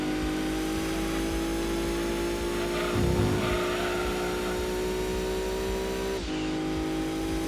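A heavily prepared Subaru Impreza races in Gran Turismo 2, its engine droning steadily at high revs with a brief louder burst near the middle and a shift-like dip toward the end, with no talk over it.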